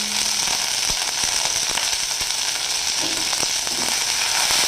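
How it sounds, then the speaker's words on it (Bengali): Onions sizzle and crackle steadily in hot oil, a constant hiss with scattered pops throughout. "পেঁয়াজটা একটু ভাজা ভাজা হবে।"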